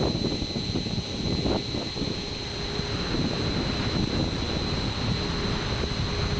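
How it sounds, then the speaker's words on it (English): Water from a working boat's big wake rushing past the bow on the water off Vancouver Island, a constant loud broadband roar mixed with wind buffeting the microphone and a steady engine hum, with no talking. "The boat pushes a big wake."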